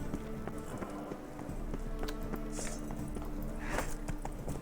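Horse hooves walking in The Witcher video game, a steady, even clip-clop of footfalls with game music playing underneath throughout.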